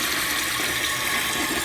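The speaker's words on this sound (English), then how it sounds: "and I flush it again" A 1983 American Standard Cadet toilet flushing, a steady close rush of water filling the frame without a break, no voices.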